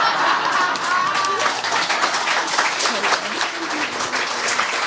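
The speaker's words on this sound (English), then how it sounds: "A round of applause." A comedy show audience breaks into loud, sustained applause, dense clapping filling the room continuously from start to finish, with a voice faintly audible beneath it.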